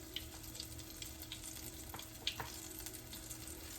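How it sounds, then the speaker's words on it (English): Soft, steady sizzle of onions frying in a pan with liver, held just above medium heat, faint and close, with a few brief crackles and stirring scrapes over a constant hiss. "It's sizzling a little bit"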